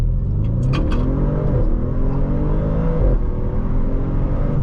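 A 2017 Audi RS7 with a 4.0 litre turbocharged engine accelerating hard on a launch run: a loud, sustained engine roar that climbs in pitch, drops sharply at a gear shift and climbs again, heard from inside the car.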